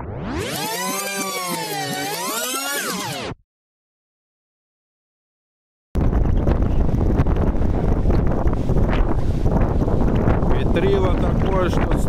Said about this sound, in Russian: Ветрило такое, что с ног просто сдувает.